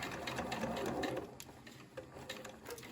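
Sewing machine running as it stitches binding onto a shirt collar, a close rapid mechanical whir that slows and restarts partway through.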